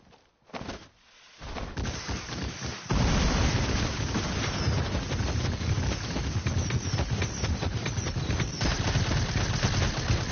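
Video game gunfire, a brief burst at first, then after a pause a dense, loud, continuous stream of rapid shots and blasts that keeps going to the end.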